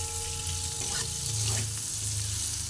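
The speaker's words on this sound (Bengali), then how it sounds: "এরপরে একটু ভালোভাবে আলুটা নাড়াচাড়া করে নিচ্ছি" Potatoes with Kashmiri chili powder stirred and frying in a pan, a close soft sizzle with a few scraping stir movements, steady and brief with no voices.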